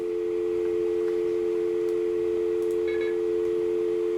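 A coin payphone on a local coin line holds a loud, steady dial tone through the whole stretch, with a brief faint chirp near the end.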